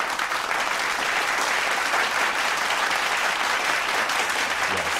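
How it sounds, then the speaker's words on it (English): Steady, moderately loud applause from a small audience at a podcast recording continues evenly for several seconds with no talking over it. "Let's clap her up immediately."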